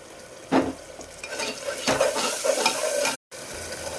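Ground cumin, coriander and black pepper are stirred together in a frying pan, giving soft scraping strokes and a couple of utensil knocks over a light sizzle, cut by a brief dropout near the end.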